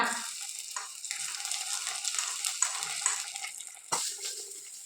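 Cashews fried in ghee are stirred into sago payasam, giving a steady, close hiss of sizzling with light scraping and stirring. A few louder clatters cut through the sizzle near the end, and there is no talk.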